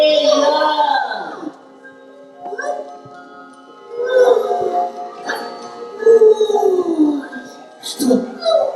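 A puppy yips and howls in several drawn-out, wavering cries with short gaps between them, loud and close, while people talk around it.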